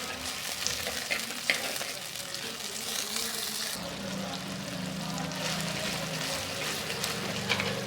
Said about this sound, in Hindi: अब मैं इसके अंदर ये टमाटर और सब्ज मिर्च डाल दूंगी और इनको अच्छी तरह मिक्स कर दूंगी